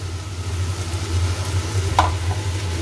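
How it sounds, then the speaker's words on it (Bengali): Spice mixture with salt being stirred in a pan, a low steady sizzle with faint scraping and one brief clink near the end, under a constant low hum. "নুন দিয়েও এটাকে মিশিয়ে নেব।"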